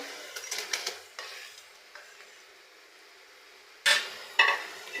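Fried prawns dropped into a pan of curry and stirred, a low simmering hiss with soft scrapes and a couple of louder clatters of utensil against the pan near the end.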